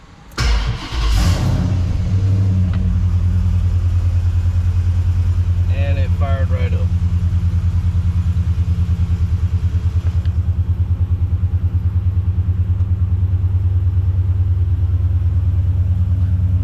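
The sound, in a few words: Gen 3 5.7 Hemi engine cranking in 1968 Charger on E85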